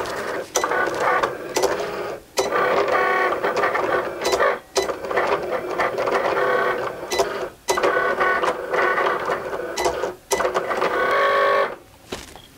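A Cricut Explorer cutting machine cuts white vinyl with loud, close mechanical whirring and buzzing from its moving carriage. The whirring comes in repeated runs broken by short clicking pauses.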